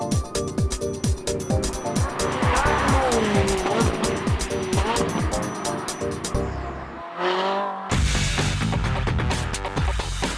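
A Ferrari 458 and a Formula One car make launch control starts, loud high-revving engines screaming through rapid upshifts with tire squeal, a brief drop near the end before another engine roars back in.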